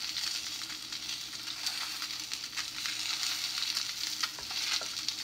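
Salmon fries skin-side down in a nonstick pan, with a steady, close sizzle and crackle that holds constant throughout, with no voices over it.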